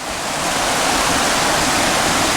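Water rushes steadily through a stream on a long wilderness hike, a loud, unbroken broadband roar close to the microphone with no voices.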